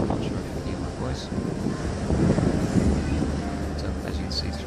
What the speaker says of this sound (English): is actually quite windy at the top, so I'm not sure if you hear my voice.